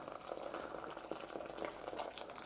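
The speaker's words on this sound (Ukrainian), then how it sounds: "Заливаю кипяточком або гарячої води." Boiling water poured from a kettle into a pot over pork fat, a faint, steady splashing and gurgling of liquid filling the pot close by.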